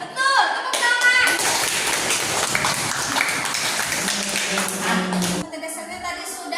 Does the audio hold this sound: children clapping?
yes